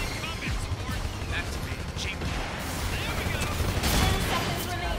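Rapid bursts of gunfire from the Gundam Evolution mech shooter video game crackle continuously in the mix while a player talks over the action.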